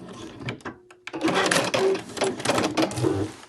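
A sewing machine runs a short reverse back stitch to finish a seam on a pom-pom cushion cover, a brief pause followed by a steady close whirring burst of stitching, with no talk.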